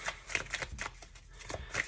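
Robin Wood tarot cards are shuffled by hand in quick, crisp riffling bursts, a string of close papery flicks and slaps with a few short pauses between them.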